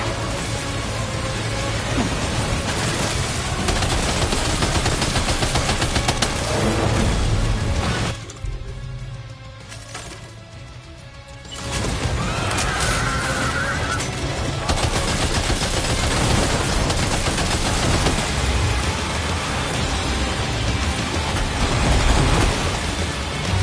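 Dense, loud gunfire rattles almost continuously in the video game Death Stranding 2, breaking off for a few seconds before resuming at full intensity.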